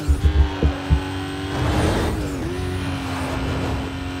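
An Aston Martin DB9 in Need for Speed Most Wanted, its engine droning steadily with a few low thumps at the start before the revs rise and hold in a sustained, moderately loud game-engine roar.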